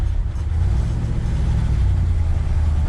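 A 1969 Ford F-250 pickup, a low-use truck that sat for 20 years, driving along with a steady deep engine drone and road rumble, loud and close with no voices.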